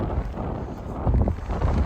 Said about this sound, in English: I didn't know the wind was this sharp today